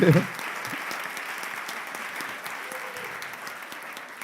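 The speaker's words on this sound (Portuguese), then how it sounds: "Nem aplaudiram, né? Aplaude." A church congregation applauds throughout a celebration service, a steady, moderately loud wash of many hands clapping that runs evenly after a brief louder burst at the start.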